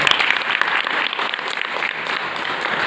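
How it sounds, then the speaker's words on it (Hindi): An audience at a Hindu Rashtra Mahasabha signature-campaign gathering claps loudly and steadily, a dense wash of applause lasting throughout without pause or speech. "तो मैं चाहता हूँ एक बार जोरदार ताली के साथ।"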